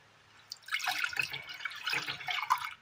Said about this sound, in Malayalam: അടുപ്പത്തൊരു ചട്ടി വെച്ച് കൊടുത്ത് അല്പം വെള്ളം ഒഴിച്ചു കൊടുക്കാം